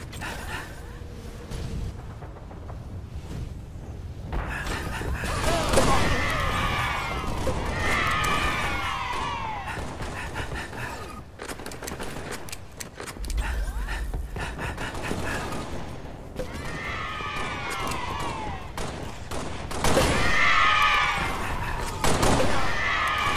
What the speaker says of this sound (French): Déluge de grenades.